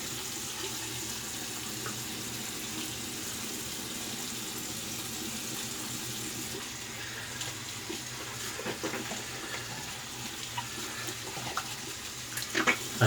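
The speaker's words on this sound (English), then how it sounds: "Rinse the brush out." A shaving brush rinsed under a running tap, a steady hiss of flowing water splashing into a sink, with a few louder splashes and clinks near the end, no talking.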